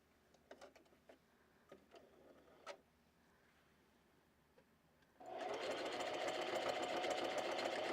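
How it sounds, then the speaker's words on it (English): Scattered clicks and light handling give way at about five seconds to a sewing machine running steadily and loudly, stitching fabric together at close range until the end. "let's just sew it all together"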